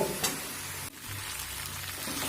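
Potatoes sautéing in a pan over a medium flame, a soft, even sizzle with light clatter and a brief stirring scrape partway through, fairly quiet and without speech.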